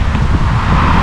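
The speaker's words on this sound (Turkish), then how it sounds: "Rüzgar da bayağı arttı." Strong wind roars and buffets the microphone during a motorcycle ride on the road from Gaziantep to Bodrum, a loud, steady broadband rush with no voices.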